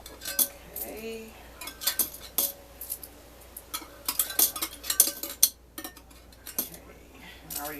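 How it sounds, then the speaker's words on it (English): Loose coins tipped into a container, giving a scattered run of bright metallic clinks and jingles, close by and fairly quiet, with short bursts over about eight seconds. "I already dumped my quarters."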